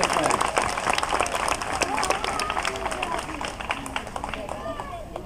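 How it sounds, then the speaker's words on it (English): Applause from a zoo show audience mixed with crowd chatter and a voice talking over it, a steady dense patter of clapping throughout at moderate distance. "Big round of applause for Tiara"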